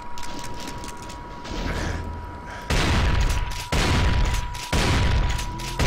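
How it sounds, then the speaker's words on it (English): Shotgun blasts in Brutal Doom on PC, three heavy booming shots spaced about a second apart, each followed by a mechanical pump clack, over a background of game noise. "Shotgun sniping!"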